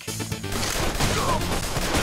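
Shotgun fire in the side-scrolling game Mercenary Kings, a dense, crashing burst of blasts and impacts that keeps going at full volume across the whole moment.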